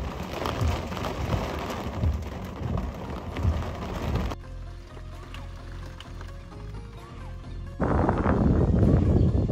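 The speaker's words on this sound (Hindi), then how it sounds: "बारिश हो रही है भाई, शानदार भाई, मजा आ गया" Steady storm rain falls on a surface in Rishikesh, hissing loudly, fading to quieter background noise midway before the heavy downpour returns.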